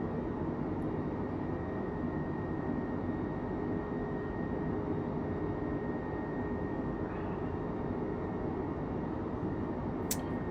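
Steady broadband engine roar of an Airbus A320 airliner cruising in Microsoft Flight Simulator, a constant even drone with a faint whine, unbroken and without talk.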